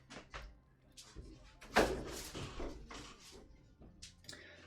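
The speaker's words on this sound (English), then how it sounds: "Let me just close the door real quick." A door shuts with a single firm thud partway through, set against quiet room noise and some nearby movement.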